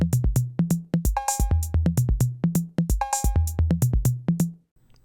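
A Roland TR-808 drum machine pattern, online emulation, plays a fast repeating loop of booming kicks, snappy hits, pitched toms and a metallic cowbell, punchy and upfront, cutting off near the end with no talking.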